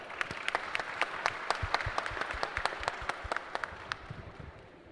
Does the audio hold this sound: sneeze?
no